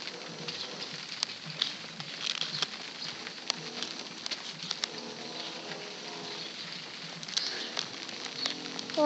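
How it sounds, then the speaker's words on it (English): Hail and rain patter continuously outdoors, a dense, even hiss of small impacts with scattered sharper ticks and faint bird calls behind. "it's raining outside."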